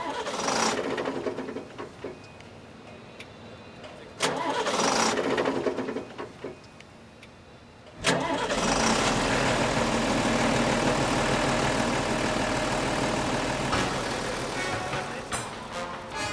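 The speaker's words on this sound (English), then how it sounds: "Ja, bitte Motor starten." The diesel engine of a Minka gantry crane turns over and fires after circuit board repairs, a low idle rumble swelling in two short bursts, then catching at about eight seconds into a loud, steady running drone.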